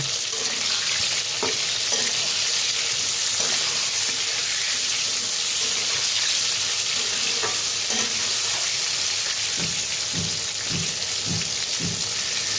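Ridge gourd pieces fry in a pan with a loud, continuous sizzle, while a spatula turns them, adding occasional scrapes and a run of soft rhythmic knocks near the end.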